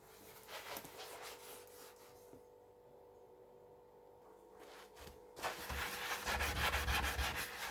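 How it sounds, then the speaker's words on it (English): Rubbing and scrubbing on a ceramic glass stovetop, a steady close abrasive swishing that drops out briefly mid-clip, then returns louder and rougher to the end, with a faint electrical hum underneath. "I can feel some resistance some of the places as I scrub"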